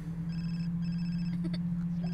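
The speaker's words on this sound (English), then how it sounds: "Let's just ignore that phone call, shall we?" A telephone rings in the video game The Sims 4 in repeated electronic bursts separated by short pauses, fairly faint over a steady low hum.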